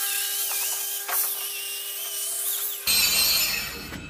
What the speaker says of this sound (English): So now it's wire squealy time, wire wheel. So wire wheel that sucker.